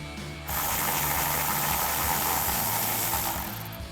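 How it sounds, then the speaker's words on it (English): A 10mm ratchet wrench removing a bracket during a front big brake conversion on a 2005-2014 Ford Mustang, giving a continuous rapid clicking whir that starts abruptly and runs steadily, close and loud, with no talking. "Now we're going to use our 10mm wrench or socket and go ahead and take off this bracket."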